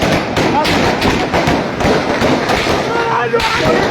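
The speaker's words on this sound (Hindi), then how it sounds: "यहाँ फायरिंग हो रही है" Gunfire in Gilgit city sounds as dense, loud, rapid cracking bursts that barely let up, with a voice speaking under the shots.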